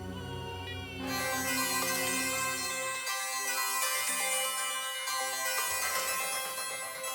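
A melodic electronic mobile phone ringtone plays loudly and continuously, bright layered tones cycling through a short repeating tune with no talking.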